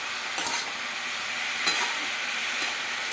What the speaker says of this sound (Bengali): ধনে গুঁড়ো, হলুদ গুঁড়ো, পরিমাণ অনুযায়ী লবণ, দিয়ে ভালো করে নেড়ে নেব।